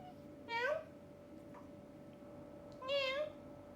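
A cat meows twice, clear and close, each call rising then falling, with a quiet pause between and a steady faint hum underneath.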